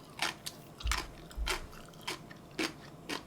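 Crunchy bites and chewing of bibimbap and jerky-like food, close to the mouth, several distinct bites spaced through a quiet room with no talking.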